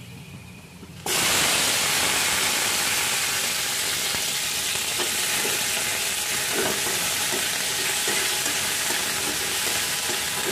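Chopped onions dropped into hot oil in a pan after frying garlic, an abrupt loud hiss that settles into a strong, continuous sizzle with faint crackles, no voices.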